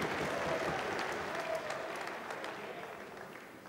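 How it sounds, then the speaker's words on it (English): A crowd at a BJJ grappling event cheers and applauds in a dense roar of clapping that slowly fades out, with a commentator's voice talking over it. "You can hear the crowd responding to that action."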